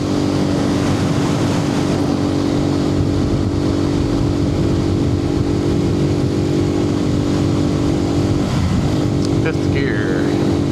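A Suzuki TU250X motorcycle engine hums steadily while riding in the evening, recorded from a helmet microphone with constant wind rush over a continuous, moderately loud drone.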